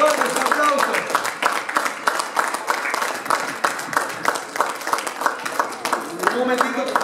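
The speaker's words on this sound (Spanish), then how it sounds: "Fuerte, fuerte, un aplauso." Crowd applause after the wedding vows at a Pentecostal church ceremony, dense sustained clapping filling the room for several seconds, with voices mixed in.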